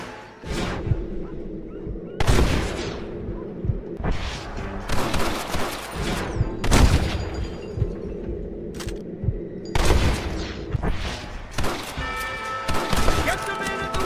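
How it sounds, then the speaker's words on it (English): A Red Dead Redemption shootout: loud, irregular volleys of rifle and pistol shots crack repeatedly over about fourteen seconds, some close and sharp, with voices shouting between them. "Open fire!"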